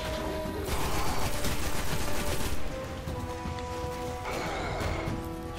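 Shotgun fire in the Destiny video game: a couple of loud, booming blasts spaced a few seconds apart over a dense, busy layer of game combat noise.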